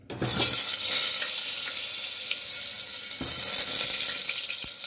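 Cut potatoes dropped into hot oil in a kadai, frying with a steady dense sizzle throughout, a few sharp pops and clinks near the middle and end.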